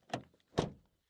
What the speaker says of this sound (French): Son de porte qui se ferme.